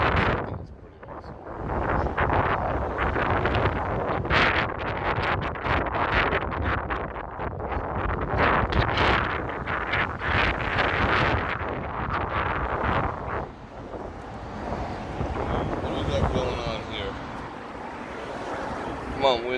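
Wind buffets an outdoor microphone on the Las Vegas Strip at night, a loud, rumbling roar in irregular gusts that dominates for most of the stretch before easing slightly near the end.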